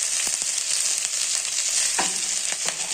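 Whole spices tempering in hot ghee and sunflower oil for a Gobindobhog rice pulao, giving a steady close sizzling hiss broken by a few stirring scrapes and pops.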